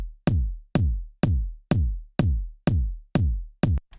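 A bigger, rounder, deeper kick drum booms eight steady hits alone, each with a long low sustain and a pitch that falls slightly before the next strike.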